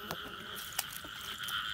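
Female frogs croak in a night field during frog hunting, with repeated short croaks and a steady high insect-like chorus behind them, fairly close and with no talking.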